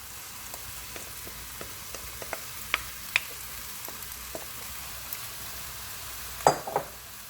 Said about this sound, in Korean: 고기하고 같이 볶아주세요.